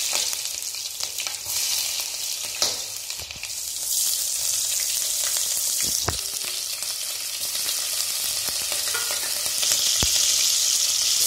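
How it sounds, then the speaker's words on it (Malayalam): Onion and green chilli fry with mustard seeds in hot oil, giving a steady, bright sizzle with occasional crackles and stirring clicks, close and continuous with no talk. "കടുക് മൂത്തതിന് ശേഷം ഉള്ളിയും പച്ചമുളകും ഇട്ട് കൊടുക്കാം"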